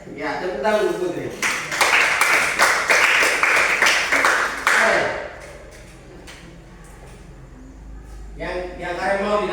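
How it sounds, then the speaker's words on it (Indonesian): Students in a classroom clapping for a classmate, several seconds of dense, close applause that fades out, with a teacher's voice speaking before and after. "tepuk tangan untuk Putri"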